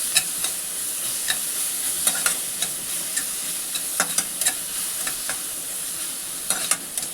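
Ginger-garlic-chilli paste fries in a pan for matar kachori filling, a steady close sizzle broken by sharp scraping clicks of a spoon stirring every second or so, with no voices.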